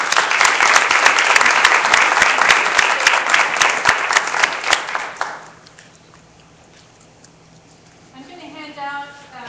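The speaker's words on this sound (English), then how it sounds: "if y'all would help me give her a great round of applause" Audience applause at a talk on Agenda 21, loud dense clapping from a crowd for about five seconds that fades out, followed by quiet and then a voice beginning to speak.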